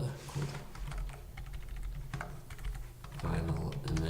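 A folder name is typed on a computer keyboard, with rapid, close clicking keystrokes in uneven bursts and a few louder key presses near the end. There is no clear speech over them.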